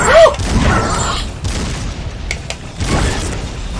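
Shotgun blasts in the video game Metal Arms: Glitch in the System, heavy booming reports with a rumbling tail under a noisy game mix, loud and close, with a couple of sharp metallic clicks between them.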